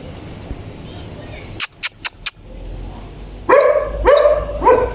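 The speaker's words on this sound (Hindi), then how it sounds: "ये देखें, अभी भी एक दूसरे को भौंक रहे हैं, चुप नहीं करते हैं।" Dogs barking back and forth at each other nearby, a few sharp clicks first, then three loud barks in quick succession.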